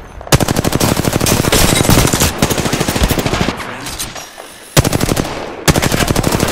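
Automatic weapon fire in the video game Apex Legends on Xbox One, with loud, close, rapid bursts of gunshots in a steady rhythm, broken by a couple of short gaps before firing resumes.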